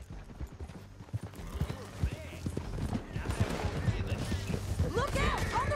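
Horse hoofbeats galloping down a canyon in the video game Red Dead Redemption 2, a steady clip-clop rhythm under busy game action with gunfire bursts and shouting voices.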